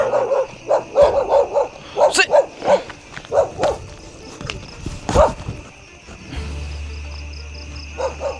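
A dog barks in repeated bursts, fairly close, with people talking over and between the barks and some footsteps in the background.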